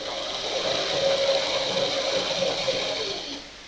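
A sewing machine runs long basting stitches along a blouse hem, a steady close mechanical whir with a fast rhythmic chatter, alone throughout before easing off at the end.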